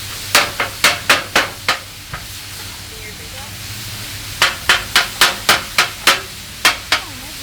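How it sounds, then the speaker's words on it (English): Heavy-duty beveled-edge metal spatulas chop beef for Philly cheesesteaks on a Blackstone griddle, giving sharp, loud clanking strikes in two quick bursts of about six and eight hits, separated by a quieter gap with faint sizzling underneath. "The new spatulas are really good for chopping."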